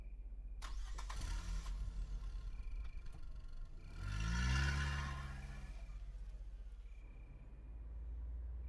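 A car engine in The Smiling Man horror game cranks with a sharp click and rattle, catches, swells into a brief rev that peaks midway, then settles into a low, steady idle, all fairly quiet.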